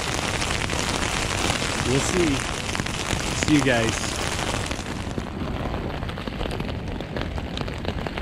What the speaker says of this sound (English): I really hope this tent can hold up in a hailstorm.